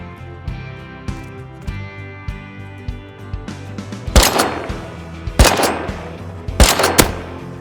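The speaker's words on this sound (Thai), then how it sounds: "อุ้ยเอาว่ะเขายิงกันว่ะ" Sniper gunfire in the survival video game Rust: a few loud, sharp shots crack out in the second half, one single and then a quick pair, after a quieter stretch of faint rhythmic background sound.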